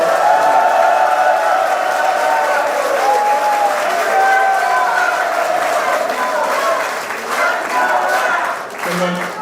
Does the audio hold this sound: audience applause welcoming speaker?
yes